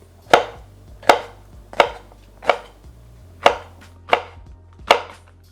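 A knife chops steadily on a wooden block, seven sharp, evenly spaced strikes, close and crisp with quiet pauses between.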